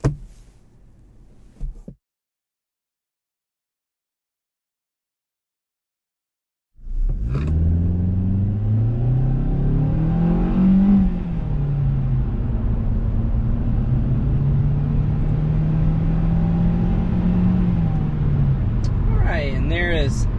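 A 2023 Kia Forte GT-Line accelerates hard to 60 mph, its engine drone climbing steadily in pitch and loud from inside the cabin, then easing off. A few seconds of near silence come before it.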